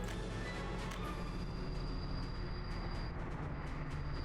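Trains rolling along rails in the Soviet city-building game Workers & Resources, a steady low rumble of wheels with faint squealing and clicks, continuous and moderately distant.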